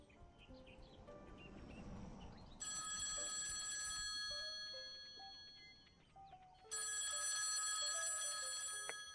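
A telephone rings in the video game Copycat: bright, electronic trilling bursts start partway through, pause, then resume loudly. Soft ambient game sounds sit underneath the ringing.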